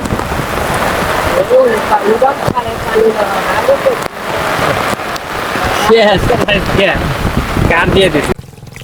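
Steady rain pours with gusty wind buffeting the microphone in Shahjadpur, Sirajganj, Bangladesh, a loud continuous wash with voices faintly mixed in.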